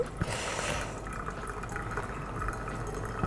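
Hot water poured over a manual brew coffee filter to rinse it: a soft, steady trickle and splash of liquid with a few faint drips, quiet and close.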